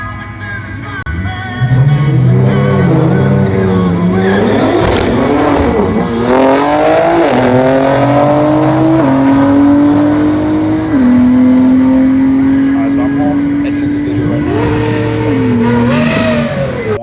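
A BMW G80 M3 launches hard at a track, its engine roaring loud and close as it revs and pulls up through several gear changes, each shift dropping the pitch before it climbs again.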